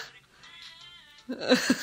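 A cat gives a short series of close meows in the last half-second, following a quieter, faint tonal stretch.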